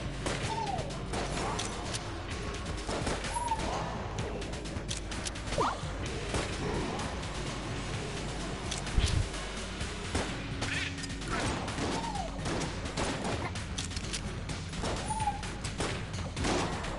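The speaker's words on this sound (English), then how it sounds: "Every time I fire that gun, it's leaving a line of fire." Repeated gunfire from the roguelike shooter Enter the Gungeon, with one gun leaving a trail of fire, comes as a busy, steady stream of whooshing shots and crackling impacts over game music across seventeen seconds, at an even, fairly loud level.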